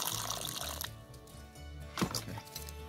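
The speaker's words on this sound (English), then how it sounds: "what you have to do is just pour water" Water is poured from a container for air layering a plant in a plastic bag, a loud splashing, gurgling stream that eases off, then surges again in a brief burst.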